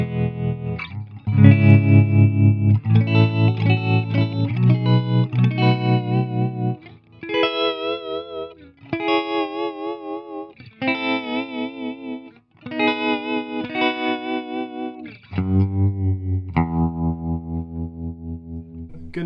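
Electric guitar chords and notes through a tremolo pedal at full depth pulse with deep, rapid throbbing, each phrase wavering strongly in volume, played alone with pauses between.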